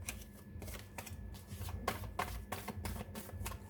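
Tarot cards are shuffled by hand in a quiet room, giving a rapid run of soft riffling flutters and light slaps, close and fairly faint, with no voices.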